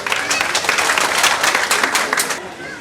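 An audience applauds at a cultural event in Rangpur, welcoming a European Union delegation, with dense clapping that holds steady for a few seconds and then fades out.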